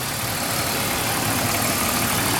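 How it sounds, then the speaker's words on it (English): A 2002 BMW 325 with an inline six-cylinder engine and 97,000 miles runs steadily, a close, continuous mechanical rumble with no talk over it. "This is the engine right now."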